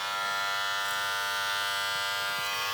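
A Heiniger Tauro cordless hair clipper runs with a steady, high-pitched electric buzz, close and continuous, ending with a brief click.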